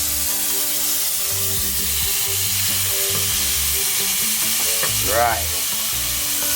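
Chopped white onions and tomatoes frying in a hot pan, a loud steady sizzle with bursts of stirring, while a voice briefly speaks once.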